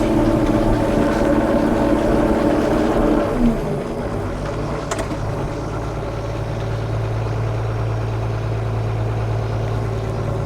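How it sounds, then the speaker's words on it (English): A 4440 tractor's heavy engine drones steadily and loudly throughout, its pitch dropping and settling lower partway through as it strains under heavy load. "this new oil is just a little too much load for this tractor"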